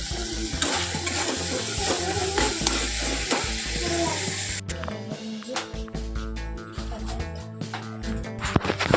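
Curry masala fries and sizzles in a pan, then water is poured in and the hiss gives way to bubbling and stirring clatter, loud and close in a home kitchen.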